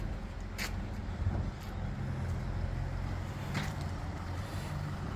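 A car driven away toward the port in Dubai, heard as a steady low road rumble and passing traffic noise with a few brief hissy swells, somewhat distant and unbroken by speech.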